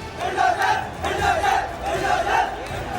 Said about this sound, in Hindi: भीड़ उग्र हो रही है।